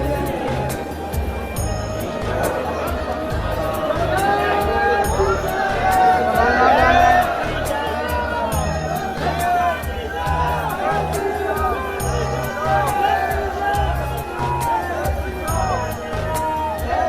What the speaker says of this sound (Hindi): जहां की भीड़ देखकर लगता है मानो भक्तों का सैलाब उमड़ पड़ा हो